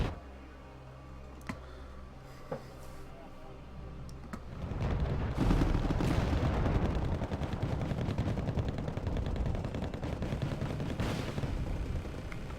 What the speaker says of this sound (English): And now mortars are coming in because North Korea just can't catch a break.